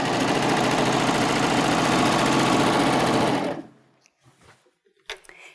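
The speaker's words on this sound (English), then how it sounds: "you can take it out of the machine and serge off" A serger sewing machine finishing the edge of fabric for a drawstring backpack, running as a loud, dense, continuous motorized whir that stops sharply partway through and is followed by a few quiet handling clicks and rustles.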